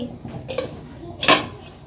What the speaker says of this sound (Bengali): তারপর ভালো করে সিদ্ধ হয়ে যাওয়ার জন্য ঢাকনা দিয়ে ঢেকে দিচ্ছি